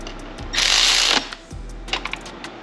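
Mechanic's ratchet on an Evo 8 4G63 engine bay part, a short burst of rapid clicking spinning a bolt down, followed by a few slower individual clicks, close and alone.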